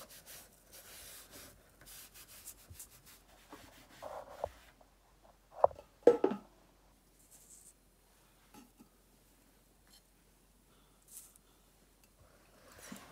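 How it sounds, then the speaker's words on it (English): Excess green paint being wiped off a craft piece with a cloth: quiet intermittent rubbing and scuffing strokes, with a few louder swipes in the middle and long near-silent gaps. "And then wipe the excess off."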